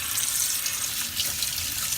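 Tap water gushes steadily into a sink while brushes are rinsed under it, a loud, close, unbroken splashing rush with no voices.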